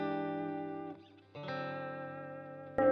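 An electric guitar rings through a Fender '68 Custom Vibro Champ tube amp with lush reverb, sustained chords fading briefly, then another chord strummed and left to shimmer, close and clear.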